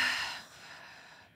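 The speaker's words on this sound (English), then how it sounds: "Just take a normal breath." An inhaled breath taken during a breathing exercise, a single soft airy intake close to the mic that fades over about a second, with no talking.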